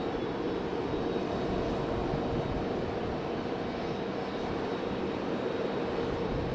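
An ATR turboprop airliner lands into a headwind at Raleigh Durham airport, its engines a steady, moderately distant droning roar that holds without letup throughout.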